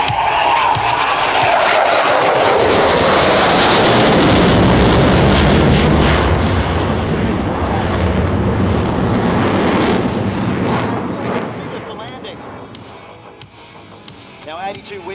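An RAAF F/A-18F Super Hornet roars past in a solo display at an airshow, a loud sweeping jet rumble that swells and slowly fades under wind noise and an announcer's voice.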